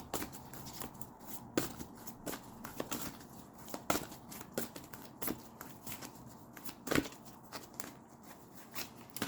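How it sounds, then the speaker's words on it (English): Tarot cards being shuffled by hand, a run of soft riffling and slapping bursts with several sharper snaps, close and fairly quiet, no talking. "Let's pull your cards."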